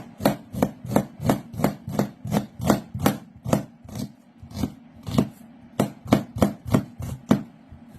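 An onion sliced with a knife on a cutting board, a steady run of crisp, close chops in quick rhythm, a brief pause midway, then the chopping resumes at the same pace.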